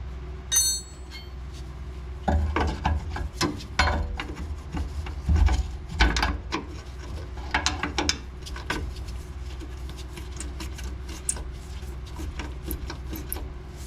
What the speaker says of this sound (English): This is the thread chaser going on. And hopefully we get these threads cleaned up